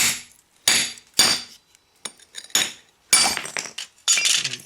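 Hammer blows on a mason chisel against old solid brick ring out as sharp metallic clinks, about seven separate strikes at uneven intervals, close and fairly loud with quiet gaps between.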